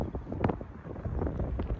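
Cool wind blowing across the open water at Fairlop Water, a lake in a park, rushing steadily against the microphone in fairly loud gusts, with no talk.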